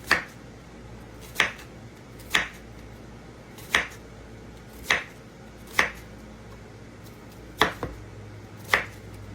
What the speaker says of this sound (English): I think I'm going to cut him in half. And then I'm just going to make slivers like this.